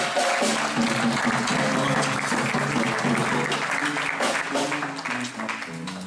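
Loud, sustained applause from a church congregation, dense clapping throughout with a musical tone faintly underneath.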